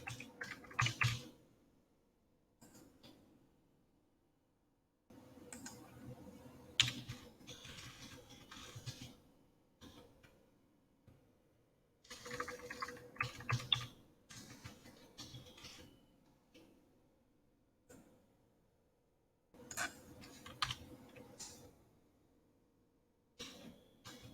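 Someone types on a computer keyboard in short bursts of quiet, close clicks, separated by pauses of near silence.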